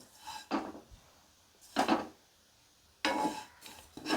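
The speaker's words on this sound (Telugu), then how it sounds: "ఈ సేమియాని లైట్ గోల్డెన్ కలర్ వచ్చేలాగా వేయించుకోవాలి." A pan in which vermicelli is being roasted gives off three separate bursts of scraping and clinking as it is stirred, with near silence between them.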